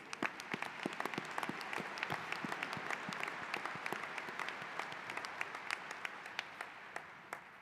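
A ceremony audience applauds with dense, continuous clapping from many hands, heard at moderate distance and holding steady for several seconds before easing slightly at the end.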